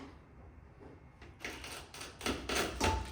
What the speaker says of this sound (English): Hear the glass creaking and cracking.